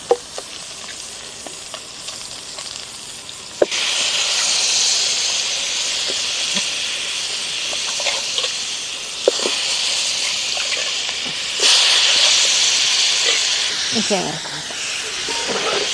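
Fish pieces dropped into hot oil in a pan sizzle loudly and steadily, with a broad frying hiss that swells as more pieces go in, plus occasional stirring clinks and soft talk underneath.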